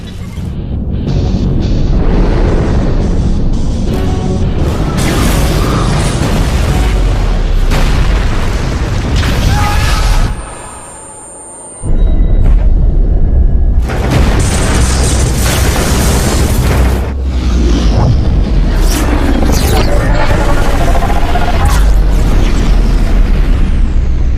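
Starship weapons fire and explosions in a sci-fi action movie battle, a loud, nearly continuous barrage of deep booms and blasts that drops out briefly to a low rumble before resuming at full force.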